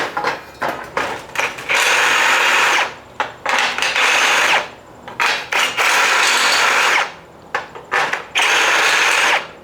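A Ryobi cordless power tool, likely a drill, whirs loud and close in repeated bursts of a few seconds each, broken by short stop-start blips and pauses, with no one talking.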